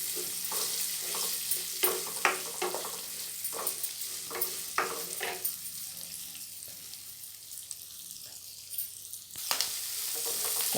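Shredded cabbage sizzles in a pan of hot tempering oil while being made into vathani avalakki poha, with a constant soft frying hiss and repeated scraping stirs of a spoon against the pan.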